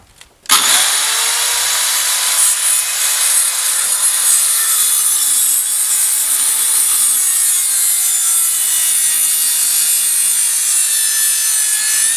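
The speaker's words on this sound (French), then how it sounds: "Tu vois bien pour le réglage là de la scie." A steady, continuous rasp of a hand saw cutting through a timber roof beam, loud and close, running without pause after a brief quiet start.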